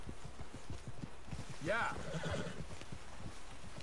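A horse's hooves clip-clop steadily while a horse whinnies loudly partway through, with a brief spoken word over it.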